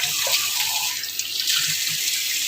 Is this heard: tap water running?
yes